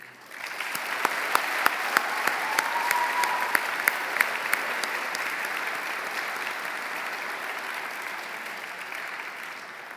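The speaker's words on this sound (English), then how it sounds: "Seniors, please give a quick round of applause to anyone here that truly means something to you." Audience at a 2023 high school commencement ceremony applauds steadily for about ten seconds, a dense wash of many hands with a few sharper nearby claps and faint cheers, no speech over it.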